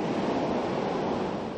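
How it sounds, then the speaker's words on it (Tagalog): Strong typhoon wind and big sea waves pound a coastal shore where boats are tied down, a loud, steady roaring wash of surf and gusts with no voices. "Malakas na kasi ang hangin at naglalakihan na rin ang alon."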